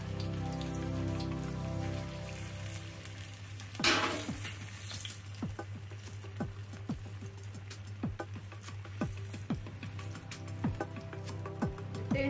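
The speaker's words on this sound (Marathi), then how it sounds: "इथे आपलं तेल पण तापत आहे" Oil heating and frying in a pan while potato-and-semolina tikkis are made, with a steady sizzle, a loud burst of crackling spatter around four seconds, then continued popping and hissing close by.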